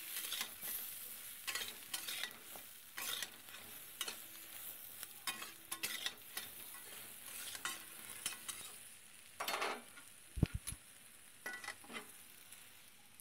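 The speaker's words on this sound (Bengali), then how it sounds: "বেগুনের মধ্যে হলুদ দিয়ে একটু নেড়ে নিচ্ছি" Eggplant chunks with turmeric, and some potato, frying in oil in a kadai are stirred with a spatula: repeated scraping strokes over a continuous soft sizzle, close and fairly quiet, with a couple of sharper clanks near the end.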